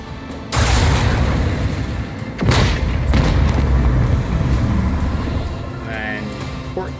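Lance battery fire in a Warhammer 40k Rogue Trader space combat: a heavy boom bursts out near the start, a second blast follows a couple of seconds later, then a long rumbling tail fades under brief faint game effects.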